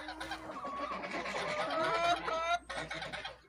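Hens cluck near and steadily in a small backyard flock of red-brown birds, one with feathered legs, a busy overlapping chatter of calls that runs throughout with no talking over it.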